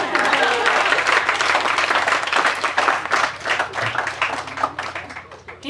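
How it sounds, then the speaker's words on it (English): A wedding crowd claps steadily and loudly, a dense patter of applause that slowly tapers off toward the end. "You can clap for that."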